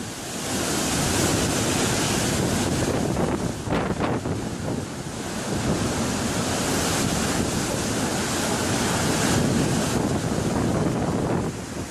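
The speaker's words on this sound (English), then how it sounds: "Got an awesome storm going on, rocking this massive boat, about 100+ mile-an-hour winds" Roaring wind and crashing waves batter a large ferry crossing from Holyhead to Dublin in a loud, continuous storm with winds over 100 mph, gusts buffeting the microphone throughout.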